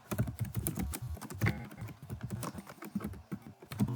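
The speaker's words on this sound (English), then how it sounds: "I'm going to type in my major right there" Rapid typing on a computer keyboard, with a dense run of close, crisp key clicks and irregular taps continuing for a few seconds with no talk.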